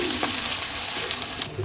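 Ginger and garlic frying in a pan for aloo bhujia, a steady close sizzle with faint stirring scrapes throughout, no talking.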